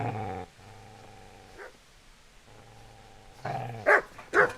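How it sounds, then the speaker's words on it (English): A dog in Kingdom Come: Deliverance growls in low rumbling stretches, then bursts into two sharp, loud barks near the end, all close and without talk. "Get away, you mutt!"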